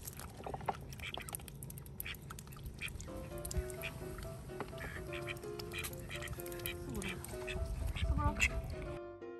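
A flock of domestic ducks quacking in a garden, many calls overlapping in a busy, continuous chorus that swells louder near the end, with voices talking underneath.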